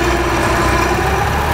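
A 1913 Ford Model T engine runs loud and steady, with a low, tractor-like chugging drone that goes on without a break.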